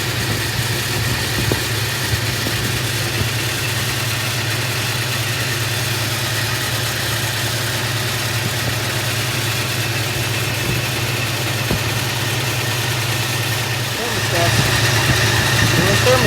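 A 1971 Ford F250 truck engine idles steadily after running a while, with a constant low mechanical hum and a slight rise in loudness near the end.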